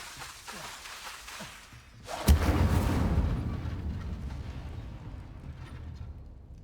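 In the Hogwarts Legacy video game, an Incendio fire spell erupts with a sudden sharp burst after quieter ticking, then a loud roaring, rumbling blaze that slowly fades.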